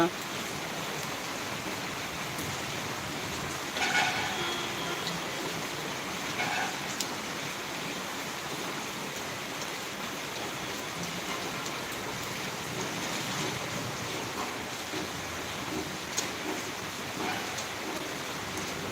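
Steady rain pours down outdoors in Tirunelveli, a continuous broadband hiss of drops on surfaces with a few louder patters, while faint speech is heard beneath it.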